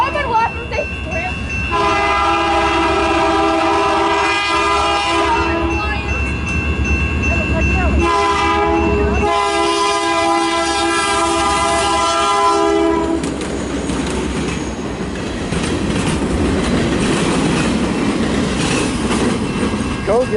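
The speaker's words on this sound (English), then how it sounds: "Oh, come on, it's a train!" A CN 505 northbound local freight train passes close by in Richmond, Michigan, sounding its multi-tone horn in two long blasts over the rumble and clickety-clack of its cars, while voices talk faintly.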